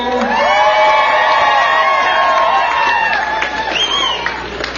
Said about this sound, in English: Big round of applause for Janae Velasco!